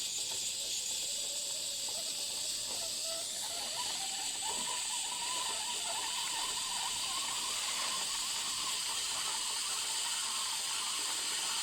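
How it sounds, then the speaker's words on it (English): A 1970s Teasmade pours hot water from its spout into a teapot, a steady hissing, trickling stream with faint bubbling that carries on unbroken throughout, fairly quiet and close with no voices. "we should see some hot water come out of the spout into the teapot"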